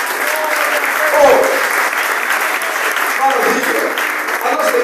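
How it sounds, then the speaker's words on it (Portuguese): A church congregation in Angola claps in a continuous, loud round of applause, with voices talking and calling out faintly underneath. "Ainda salva de palmas"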